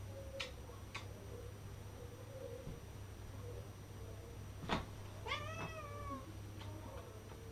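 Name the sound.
cat meowing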